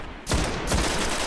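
Rapid automatic gunfire in a Destiny multiplayer match, bursting in abruptly after a brief lull and continuing as a loud, dense volley.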